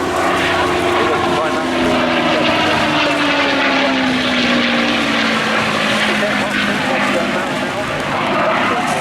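A North American P-51D Mustang propeller fighter flies at the Eastbourne airshow, its loud, continuous engine drone filling the air while a commentator speaks over it.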